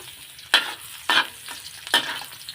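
Garlic is added to ginger already frying in a hot pan, giving three sharp sizzling bursts spaced about half a second apart, each fading into a low crackle, with no talking.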